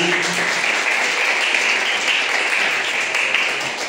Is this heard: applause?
yes